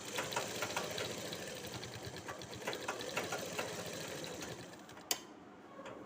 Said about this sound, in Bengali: কলির উপরে লব সেলাই দাও।